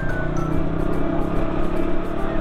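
A KTM Duke 200 with a leaking front fork is ridden on the road, giving a steady, loud engine drone mixed with rushing wind.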